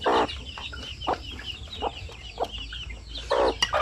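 Shamo aseel chickens cluck at feeding time, giving several short, close clucks and calls in an irregular rhythm over faint background noise.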